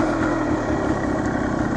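A 1975 Suzuki TS400 motorcycle engine runs at a steady idle, a loud, rumbling mid-pitched drone that continues evenly throughout with no voices.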